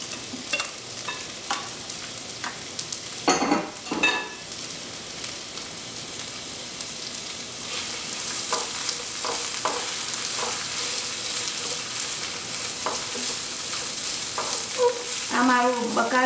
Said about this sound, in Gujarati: મારી ડુંગળી ને મરચાં છે ખાલી હાઈ ઉપર હમણાં તરાય છે, એને આપણે તળવા દઈશું।